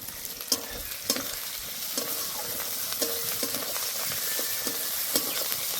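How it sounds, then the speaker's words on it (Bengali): Chopped onion frying in a pan for an egg curry, a spatula scraping and stirring through it in steady strokes over a continuous close sizzle. "পেঁয়াজ ভালো করে ভেজে নিয়েছি।"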